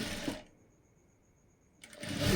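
Sewing machine stitching blouse fabric for a designer back neck, a short loud burst of machine running at the start, a near-silent pause, then the motor whirring up loudly again at the end.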